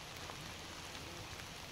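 Steady morning rain falls continuously on the last day of a fishing trip, a dense even hiss with faint scattered drops and no pauses or voices.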